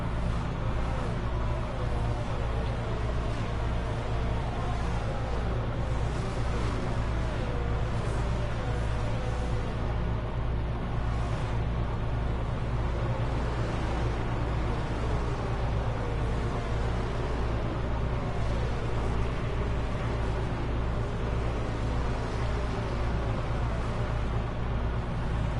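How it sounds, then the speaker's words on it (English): A safety car's engine drones in a Formula 1 racing game at the Saudi Arabian Grand Prix, a steady loud broadband roar with a low humming undertone that holds unchanged throughout, no voices. "How dramatically different the safety car engine noise is to everything else."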